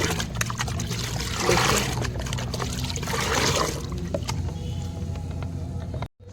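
Liquid fertilizer is poured into a plant pot, a steady splashing pour and trickle that swells and eases over several seconds before stopping abruptly, with a brief spoken word near the start.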